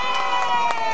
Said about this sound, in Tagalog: Oh, kailangan malakas ang palakpak ha.